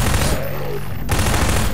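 SMG submachine gun in the shooter Half-Life: Downfall firing a loud, rapid continuous burst, close and harsh, with a short lull midway before the fire resumes.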